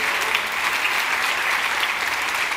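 A church congregation applauds during a worship service, a dense, steady wash of clapping from many hands throughout, fairly loud and with no clear talking.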